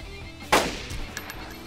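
A single B95 rifle shot from DayZ, a sharp, fairly thin crack rising out of steady game ambience, followed by a few faint, smaller clicks or impacts.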